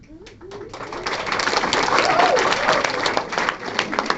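Audience applause at a live mainstage storytelling event, a brief voice at the start giving way to a steady, full wash of clapping from a sizeable crowd that holds strong for several seconds.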